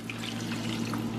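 Water poured into a pan of chiles on the stove, a steady close splashing pour with a faint sizzle underneath, heard alone without voices.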